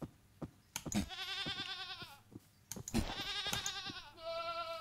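Goat bleats from Minecraft, several wavering, nasal calls in sequence with short thumps between them, loud and close.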